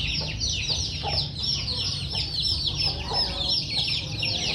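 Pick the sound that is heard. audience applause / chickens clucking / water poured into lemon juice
chickens clucking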